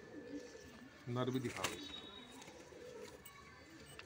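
Red Punjabi pigeons coo softly in a loft, low throaty calls close by while someone talks over them.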